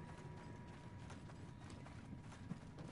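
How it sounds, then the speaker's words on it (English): Footsteps in the Apex Legends battle royale game, a steady run of soft, dense thuds under a constant busy game bed, fairly quiet throughout. "Oh, I hear footsteps."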